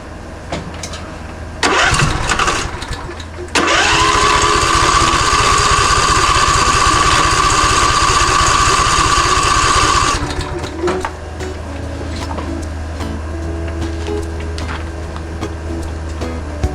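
A Husqvarna lawn tractor engine, rebuilt after hurricane damage, is pull-started with a couple of cranking bursts, then catches and runs loudly for about six seconds before cutting back to a lower rumble.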